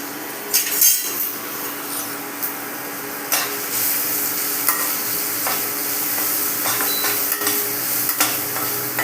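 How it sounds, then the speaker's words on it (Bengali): Spice masala of ginger, turmeric and dried chillies is stirred in a pan over heat, with repeated sharp clinks and scrapes of a spoon against metal over a low continuous sizzle, no talk. "মশলাটা 2 মিনিট নাড়তে হবে।"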